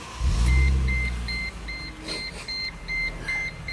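A 2010 Mercedes-Benz SLK-300 engine thumps into life, then idles with a low rumble beneath a regular series of electronic chime beeps, close by, with no voices.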